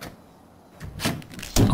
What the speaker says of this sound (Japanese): ドアが開く。